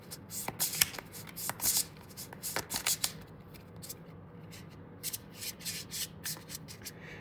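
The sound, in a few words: shuffling a deck of cards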